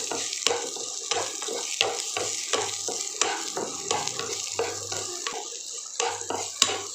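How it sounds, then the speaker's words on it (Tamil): Grated coconut sautéing in a pan for a brinjal and potato kuzhambu, with a soft sizzle under repeated scraping stirs and sharp spoon clicks against the pan, close and fairly busy. "அந்த தேங்காவை இப்போ இதோட ஆட் பண்ணி நல்லா வணக்கிடலாம்"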